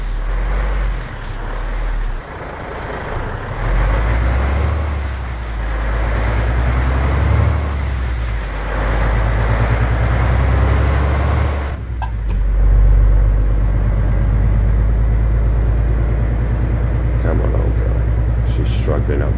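In Euro Truck Simulator, a truck with a modded engine sound climbs a hill, its loud constant engine drone and heavy standard tyre roar rising and shifting in tone, with a person talking over it throughout.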